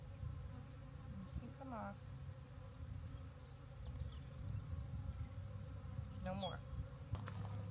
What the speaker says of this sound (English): We have bees everywhere.